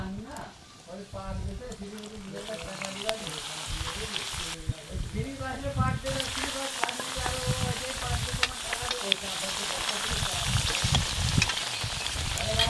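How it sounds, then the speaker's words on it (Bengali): Crisp flaky snacks fry in lightly warmed white oil on a tawa, a steady close sizzle with bubbling and stirring that grows slightly louder, while someone talks over it. "এবার এইগুলো আমি ভেজে নেব।"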